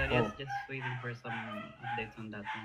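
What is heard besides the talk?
dog barking and whimpering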